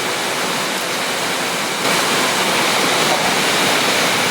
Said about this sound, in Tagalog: kahit lakas ang ulan